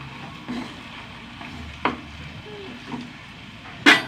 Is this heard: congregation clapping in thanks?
no